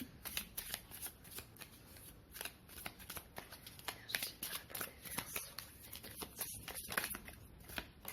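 Tarot cards shuffled continuously by hand before the deck is cut, a steady run of soft riffling flutters and slaps at close range with no talking.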